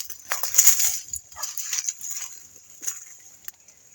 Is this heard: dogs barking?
yes